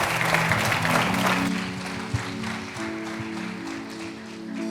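A congregation at a church service claps steadily in applause to the Lord, a moderate, continuous patter over a sustained keyboard-like musical tone that carries on beneath it.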